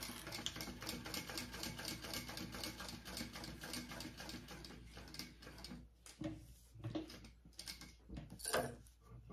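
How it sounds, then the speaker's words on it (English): A sewing machine runs a fast, even top stitch along a bag seam, a close rattling whir of rapid needle strokes that breaks into short stop-start bursts toward the end. "you are top stitching along each side of that piece"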